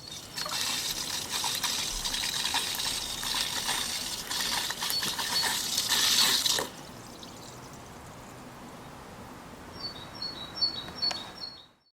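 Broadband water splashing and trickling into a Colapz Fresh Mini collapsible caravan water container for several seconds, then it cuts to a quieter, softer flow with faint birdsong toward the end.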